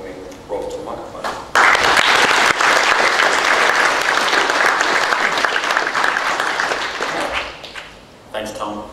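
A conference audience claps to welcome a speaker to the microphone at a game developers' event, a loud sustained burst of applause that swells quickly, holds for several seconds and then tapers off as a voice returns.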